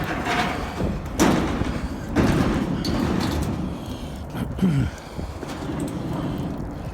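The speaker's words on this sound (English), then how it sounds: "Put the chain back on the door handle." A chain is put on a door handle and a door is locked up, heard as several dull thumps and metallic knocks spread over a few seconds against a steady background rumble, with no talking.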